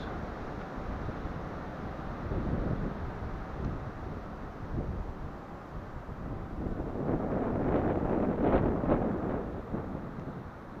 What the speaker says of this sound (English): Oh, crazy wind.